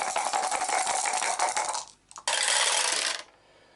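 Four dice for the Waste Knights board game are rolled, rattling loudly and closely for about two seconds, then a short pause, followed by another burst of clattering before it goes quiet.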